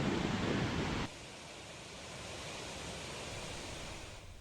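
Bogatha waterfall dropping from about 50 feet after heavy rains, a continuous broad rushing roar of falling water, loud at first and then steady and slightly softer.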